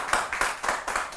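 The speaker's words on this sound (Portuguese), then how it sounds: "agora sim eu quero aplausos para ele" A few rhythmic handclaps from a small studio audience during an interview program, fairly faint and evenly spaced, about four claps in quick succession.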